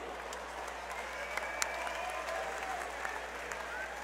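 Crowd applause and cheering at an MMA event after a fight, a steady wash of clapping filling the arena at moderate distance, with a few sharper claps and whistles standing out.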